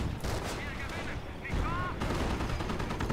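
Artillery barrage landing on a rifle grenade infantry section in a WWII strategy video game, a dense roar of overlapping blasts and gunfire with a brief higher whistle, sustained and loud.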